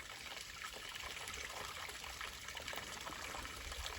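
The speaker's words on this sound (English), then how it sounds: "That's the creek I need to cross" Creek water trickling and babbling steadily on a hiking trail, a faint, continuous watery wash with no voices.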